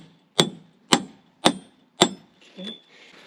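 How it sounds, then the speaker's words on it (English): Four sharp, evenly spaced metallic strikes of a hammer hitting a stuck bolt while tearing down the walls of a tiny house on rails, each ringing briefly, followed by a softer knock. "That's a hammer."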